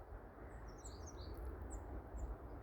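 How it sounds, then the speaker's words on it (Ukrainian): Small birds chirp and sing in a grey January winter garden outdoors, a few faint, distant high tweets over a low, quiet background hum. "Можливо, буде чутно на відео спів пташок."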